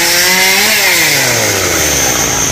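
A chainsaw roars loudly and close while cutting down a large tree near power lines and a fence, engine pitch sliding down as the chain bites into the wood, continuous with no talk.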